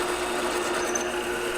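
Power drill boring in a woodworking shop with a dust collection setup, a steady continuous whine with a strong constant tone running the whole time, close and fairly loud, no talking.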